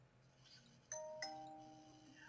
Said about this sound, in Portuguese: Ó, chegou alguém aí, bateu na campainha.